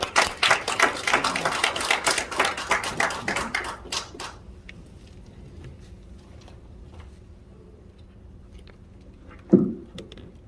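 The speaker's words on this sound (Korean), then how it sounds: "우리 이만열 박사님을 뜨거운 박수로 모시겠습니다." An audience at a March 1st Independence Movement anniversary ceremony in a Gangnam hotel hall claps warmly and briskly, the applause dying away after about four seconds into a quiet room, followed by one short, louder knock near the end.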